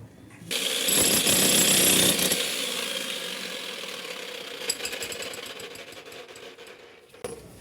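A power tool drills a hole through a ten-inch building wall for bathroom waste pipes, a loud rattling hammering that swells early, then grinds on steadily with scattered knocks as it eases off.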